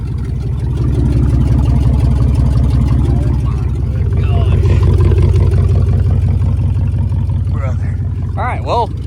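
A lifted truck on 26-inch wheels with 3-inch blocks, its engine running steadily and loud, with a low rumble throughout as the tire rubs; people talk briefly near the end.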